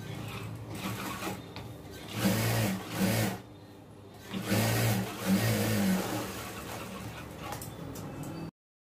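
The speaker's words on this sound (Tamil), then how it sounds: "அதனால் நம்ம லைனிங்கில் தையல் போட்டுக்குவோம்" Tailor-shop sewing machine stitching the lining of a blouse, running in a few whirring bursts of a second or so with short stops between, close and fairly loud, with no speech.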